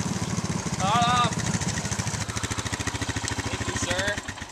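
A vehicle engine idles nearby with a steady low pulsing rumble throughout, while short voices and shouts break in over it.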